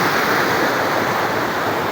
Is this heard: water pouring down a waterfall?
yes